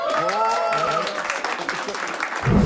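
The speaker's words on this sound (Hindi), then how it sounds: "जोरदार तालियां हो जाए please" A comedy show audience claps steadily for a few seconds, a broad wash of applause with a voice speaking over it near the start.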